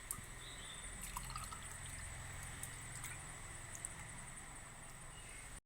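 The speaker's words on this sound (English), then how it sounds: "Now I am going to fill the glass with water." Water is poured into a drinking glass for a simple home science experiment, a steady continuous trickle and splash lasting several seconds, close and moderately faint, then stopping abruptly.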